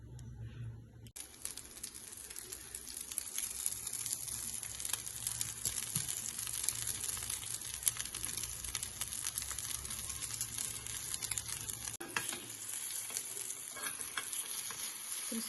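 Masala paddu batter sizzles in oil in a paddu pan, giving a steady close crackle and hiss that runs without a break after a brief quieter start.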